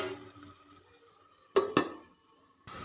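A metal lid set down onto a pan of prawn roast, two quick clanks in close succession, near and fairly loud against a quiet kitchen background.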